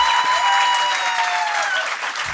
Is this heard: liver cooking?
no